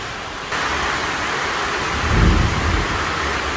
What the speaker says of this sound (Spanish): Les dejo ahí el sonido ambiente para que escuchen cómo llueve de fuerte acá